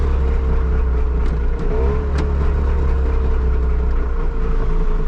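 A Trabant 601S two-stroke engine runs after sitting unused for many years, a steady close-up idle rumble with a slight rise in revs partway through.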